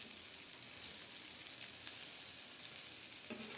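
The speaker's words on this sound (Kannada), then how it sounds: "ಈ ದೋಡಿ ಮೀನು ಸ್ವಲ್ಪ ಜಾಸ್ತಿನೇ ಫ್ರೈ ಮಾಡಬೇಕು, ಇಲ್ಲಾಂದರೆ ಟೇಸ್ಟೇ ಬರೋದಿಲ್ಲ ಅದಕ್ಕೆ." Doddi fish frying in a pan gives a steady, fairly quiet hiss and crackle of hot oil, with no voices over it.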